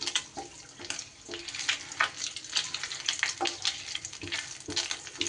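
A bay leaf with whole garam masala of small cardamom, cloves and cinnamon fries in hot oil for a prawn curry, a soft continuous crackle and sputter with occasional stirring scrapes, close and moderately quiet.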